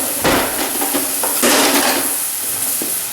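Clattering and scraping of a wooden spoon stirring browning ground meat in a pan, with a constant sizzle underneath and a few sharper knocks against the pan, close and fairly loud.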